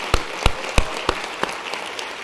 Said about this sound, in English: let's give a round of applause to the staff of Habitat for Humanity